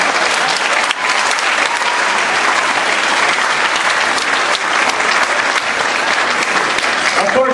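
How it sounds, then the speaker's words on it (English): Dense, steady applause from a talent show audience fills the hall, a continuous loud wash of clapping held at an even level with no talk over it. "How about giving a nice big round of applause when Senior Richter is here with us tonight."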